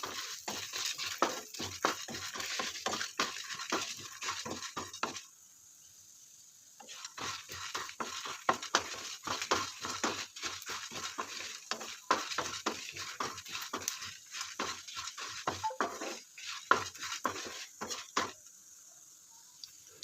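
Chopped ingredients sautéing in a pan for a kuzhambu curry, with repeated scraping, clinking spoon strokes in an irregular rhythm, a brief quiet gap partway through, then steady stirring again.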